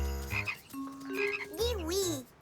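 Cartoon frogs croaking in a crossing-the-road scene, a series of close, warbling, pitch-bending croaks with no talk over them.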